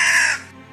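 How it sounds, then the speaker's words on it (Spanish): A crow gives a single loud, harsh caw close by, cutting off sharply after about a third of a second. "la corneja soltó un fuerte graznido que sobresaltó al joven trastolillo"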